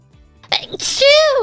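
A single sharp sneeze, close and loud, with a brief inhaling build-up and a voiced, falling burst at the end.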